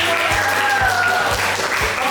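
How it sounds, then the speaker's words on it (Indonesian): A classroom of students applauds together in a steady, dense wash of hand clapping, with faint voices and a few low thuds underneath. "Ya, tepuk tangan dulu."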